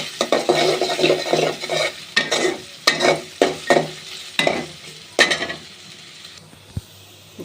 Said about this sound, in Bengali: আস্ত জিরে এর মধ্যে দিয়ে দিলাম। এখন একটু নাড়াচাড়া করছি।